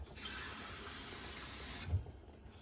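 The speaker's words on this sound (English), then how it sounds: "I'm going to put this water into this measuring cup" Tap water runs steadily into a measuring cup for a couple of seconds in a home kitchen, a close, even hiss with no talk, then cuts off with a soft knock.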